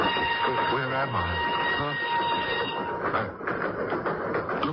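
A train rolls steadily along the rails with a continuous rumble and rattle, partly under voices talking in a 1980 radio drama.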